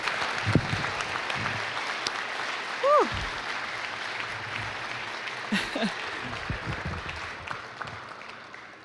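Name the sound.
applause at school celebration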